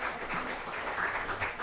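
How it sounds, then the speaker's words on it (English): Applause from an audience during a live show, a continuous faint patter of clapping that stays soft and somewhat distant throughout, with no speech over it. "give Jake another round of applause."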